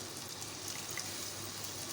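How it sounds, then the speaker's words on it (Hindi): Water pours into a pan of karahi qeema, a soft continuous gushing splash, faint and steady with no talk over it. "अब हम इसमें शामिल करेंगे पानी।"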